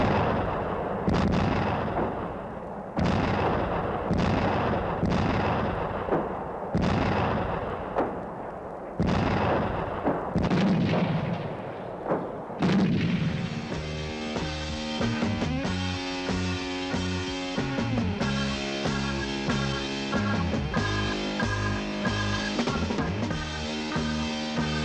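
An AMX-13 self-propelled artillery gun fires a string of sharp, booming shots spaced a second or two apart, then music takes over with no voices.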